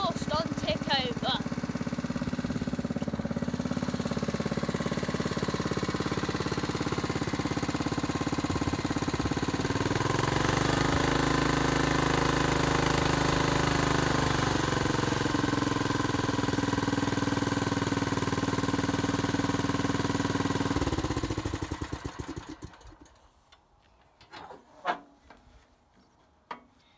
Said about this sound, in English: This is the old exhaust on tickover.